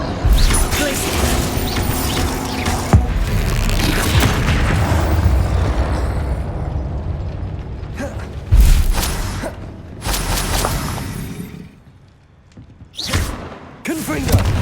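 Bombarda and Confringo spell blasts from Hogwarts Legacy gameplay, a string of heavy booming explosions with rumbling thuds and crashes layered over game sound and shouted incantations, ending in a quieter gap before more impacts.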